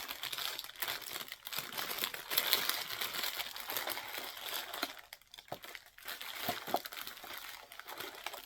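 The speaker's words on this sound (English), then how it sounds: "sorry for the crinkle, but if you know it's crinkling, there's something good to come" Plastic packaging crinkles steadily and close up, a dense rustling crackle lasting throughout with brief pauses near the end, no voices.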